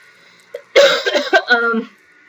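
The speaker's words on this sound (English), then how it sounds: "sorry if I'm coughing, I have a cold" One harsh, close cough from a person with a cold, with a raspy throat-clearing edge, then silence.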